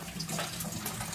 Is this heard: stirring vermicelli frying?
no